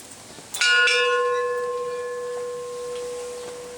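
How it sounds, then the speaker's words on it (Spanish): A ceremonial bell is struck once, loud and close, then rings on with a long, slowly fading metallic tone during a Cuban-Kongo spiritual gathering. No one speaks. "Esta es la campana."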